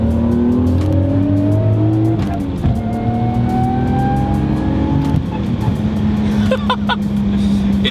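A 1983 Toyota Celica fitted with a big-turbo 1JZ engine drives past, its engine note rising through gears in a loud, sustained tone heard from outside, with faint voices in the background.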